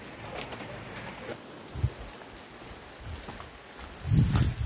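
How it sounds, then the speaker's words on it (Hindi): Steady heavy rain hisses continuously, with a few louder splashes near the end and no voices. "और ये है बाहर का सीन और सब तरफ बारिश ही बारिश हो रही है"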